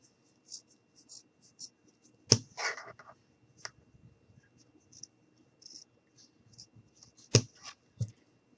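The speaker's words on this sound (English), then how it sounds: "you're going to cut out another U shape" Scissors snip through red fabric while cutting a U-shaped tongue piece for a sock puppet, giving a few sharp close clicks and crisp snips spaced out over quiet stretches.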